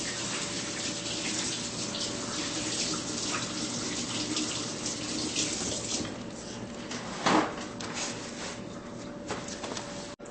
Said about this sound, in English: you have to wash your hands